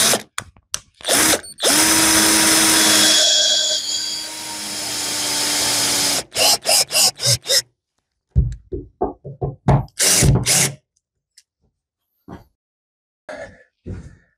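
Power drill driving screws to fix a panel during renovation of a fishing cabin: a long whining run with pitch changes, then a string of short ratcheting bursts and a few brief squeezes separated by quiet gaps.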